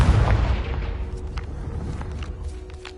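A Confringo spell explodes in the Hogwarts Legacy game, a single deep boom at the start that rumbles and fades away over a few seconds.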